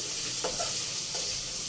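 Onions sautéing in a pan with salt and turmeric for a potato pepper fry give off a steady soft sizzle, with a couple of brief scraping stirs rising above it.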